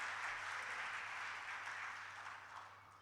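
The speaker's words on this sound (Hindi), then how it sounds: "एक बार जोरदार तालियां इस प्रोग्राम के लिए" Steady, dense applause from an audience at a poetry gathering, sustained for a few seconds at even strength before tapering slightly, with a low constant hum underneath.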